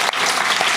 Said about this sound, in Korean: 우리 단기 선교를 다녀온 우리 16명의 학생과 우리 5명의 선생님을 위해서 우리 격려의 박수 한번 부탁드릴까요?